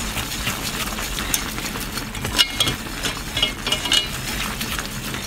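Creamed spinach is stirred and mixed in a pan, a continuous soft sizzle under irregular scraping and clinking of a utensil against the metal.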